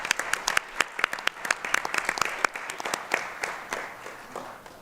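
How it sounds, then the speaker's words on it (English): A round of applause for award winners at a school district board meeting, a modest group clapping with distinct individual claps audible, fairly quiet and tapering slightly toward the end. "Let's have one last round of applause for all of our winners tonight."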